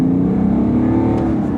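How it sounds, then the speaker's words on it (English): A 2017 BMW 530d xDrive (G30) in Sport mode accelerating from about 50, heard from inside with a loud, steady engine drone that rises in pitch as it pulls, with no talk. "Let me put it in Sport, and it changed the characteristic of the car. So now we're driving 50, and I'll accelerate"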